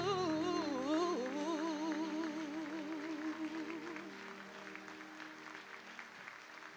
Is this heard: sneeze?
no